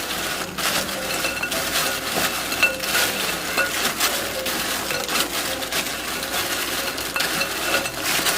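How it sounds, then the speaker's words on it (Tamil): Crunchy rice-flour kurkure snack mixture tossed and stirred from the bottom up in a bowl, a continuous dry rustle and clatter of crisp pieces, close and fairly loud, with no talking. "ஆட் பண்ணிவிட்டு நல்லா மிக்ஸ் பண்ணிக்கோங்க, அடிபாகத்துலேருந்து மேலே வரைக்கும்."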